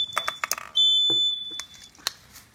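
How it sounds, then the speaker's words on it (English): An alarm sounds in a sustained high-pitched electronic tone for under a second amid clicks and taps, then is cut off as it is muted. "And now what I do, I basically mute the alarm"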